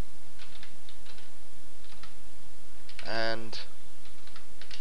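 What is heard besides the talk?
typing code on computer keyboard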